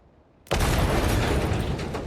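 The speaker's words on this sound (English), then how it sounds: "That's an explosion kill, it's not an accident kill." A loud explosion in the Hitman 3 video game, set off with an oil canister and breacher, bursts suddenly after a quiet moment and roars on as a sustained, close blast.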